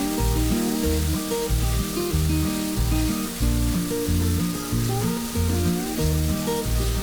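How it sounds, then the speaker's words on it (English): Tomato ketchup, a stock cube and butter fry in a pan for Goan crab masala, producing a loud, steady sizzle with a pulsing rhythmic layer underneath, close and alone without talk. "Then add 2 tablespoon tomato ketchup, 1 stock cube, 3 tablespoon butter, and then fry it for about 2 minutes."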